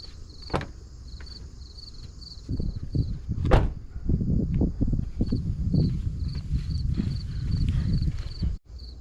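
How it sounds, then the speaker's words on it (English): A door at a stealth campsite by a radio tower is opened and closed, giving a few sharp knocks and thumps and a rumbling shuffle, under steady pulsing insect chirps outdoors. "I'm gonna film myself opening this door, and then I'm gonna film myself closing it"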